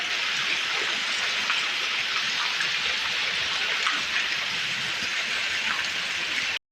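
Steady rain falls continuously, a dense even hiss of drops on surfaces that stays constant and fairly loud throughout, with no voices, before cutting off abruptly at the end.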